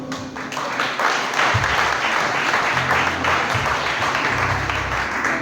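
Audience applause at a children's award ceremony, a dense steady clapping that fills the whole stretch, loud and close, with faint low voices murmuring underneath.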